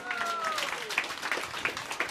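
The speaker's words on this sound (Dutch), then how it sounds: "Geef ze een applaus" Studio audience applauding guests arriving on a talk show set, a steady burst of many hands clapping with sustained music tones fading early, while a voice speaks over it.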